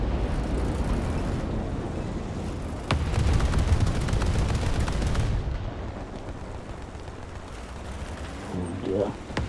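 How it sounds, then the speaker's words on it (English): Artillery fire in War Thunder on PS5 sends heavy booming blasts and rumbling explosions through the whole stretch, with a sharp crack near the middle and a steady dense barrage around it. "We've got some artillery on them."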